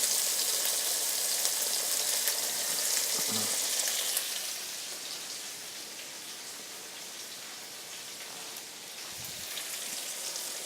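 A knob of butter sizzles and crackles steadily in a hot pan with chicken saltimbocca, a bright hissing fry that softens slightly after the heat is lowered, with a couple of brief low knocks and no speech.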